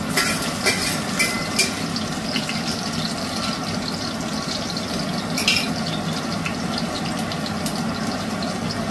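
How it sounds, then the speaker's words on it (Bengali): Chopped garlic frying in hot oil in a wok, a steady close sizzle with a continuous crackling hiss and a few sharper pops, heard alone without talk. "তেলটা গরম হোক ততক্ষণে রসুন কুচিগুলো দিয়ে দিচ্ছি।"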